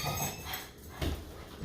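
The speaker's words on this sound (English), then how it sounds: "my dog started barking" Barking from a household dog set off by someone entering, short and moderately loud at the start and again near the end, with low room noise and no talk.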